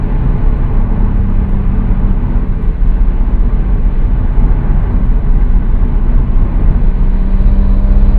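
Nissan Skyline GT-R R33 V-Spec engine pulling hard as it shifts up into fifth gear, a steady loud low-pitched drone heard from inside the car, continuous with no speech over it.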